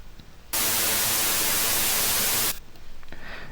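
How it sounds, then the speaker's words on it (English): A burst of harsh, hissing synthesized white noise plays alone for about two seconds, starting and stopping abruptly against a quieter background. "We have some random waves called white noise."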